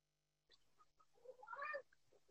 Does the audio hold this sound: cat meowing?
yes